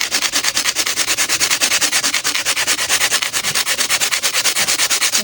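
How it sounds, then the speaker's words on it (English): An 80 grit sanding block rubbed over glass in quick, even back-and-forth strokes, a loud, steady rhythmic scratching close up with no talking. "you could take this is a 80 grit sanding block"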